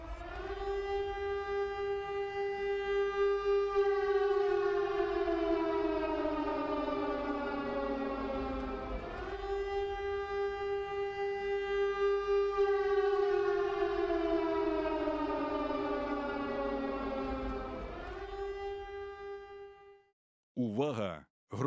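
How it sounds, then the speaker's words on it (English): A civil defense air raid siren sounds the all-clear in Ukraine, its loud tone rising and slowly falling in long sweeping cycles across open air, ending in a short warbling wail. "We have to stop here because the air raid siren has been cancelled"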